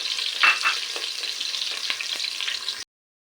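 Curry leaves, shallots and garlic fry in hot oil for a tomato curry: a loud, close, crackling sizzle with a few sharp pops, cutting off abruptly near the end.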